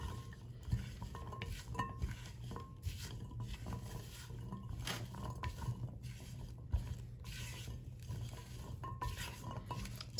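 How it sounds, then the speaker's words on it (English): A spatula stirs berries into flour in a mixing bowl for berry muffins, giving soft, close scraping and tapping against the bowl in an irregular rhythm, quiet and uninterrupted by talk. "I've just got my same spatula, and I'm just going to mix those up really quick"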